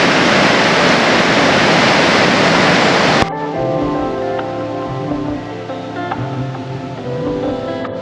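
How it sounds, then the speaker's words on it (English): A waterfall in Stockghyll Woods in the Lake District roars loud and steady for about three seconds before the rushing water drops sharply to a softer, more distant churn. "And there's a waterfall down here."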